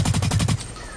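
Automatic gunfire from the online shooter game Blacklight Retribution: a loud rapid burst of about half a second, followed by a quieter tail of lingering sound.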